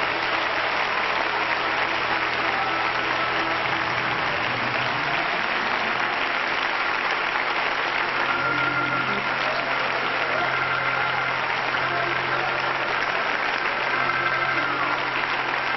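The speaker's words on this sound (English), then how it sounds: "Let's give the Lord a clap offering right now." Sustained congregation applause as a clap offering at a 1993 church service, steady and dense, with a low hum running underneath.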